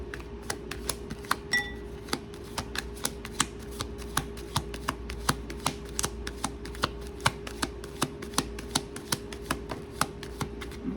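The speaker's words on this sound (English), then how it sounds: "Let's see if I can shuffle these ones" Tarot cards are shuffled over and over, crisp snapping riffles in a quick, steady rhythm, close up against a faint background hum.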